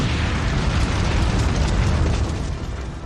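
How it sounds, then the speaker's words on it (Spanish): Atomic bomb dropped from a B-29 bursts over Nagasaki in August 1945, a loud, sustained roaring blast with heavy low rumble that holds steady for about three seconds without pause. "Nuevamente, un B-29 arroja la bomba atómica."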